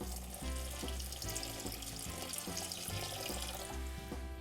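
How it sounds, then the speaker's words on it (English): Water pours from a tap into a pot of sugar while making corn syrup, a steady close splashing stream that continues throughout alone, over faint background music. "Then to that we're going to pour in our water."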